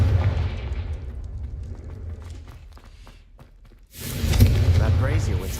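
Confringo fire spell from Hogwarts Legacy: after a stretch of quieter game ambience with scattered taps, a sudden loud, fiery blast erupts and keeps roaring with broad crackling energy.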